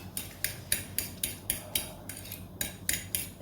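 Eggs whisked with a little milk in a bowl for a quick snack, a utensil clinking against the bowl in brisk regular strokes, about a dozen sharp metallic taps, close and clear.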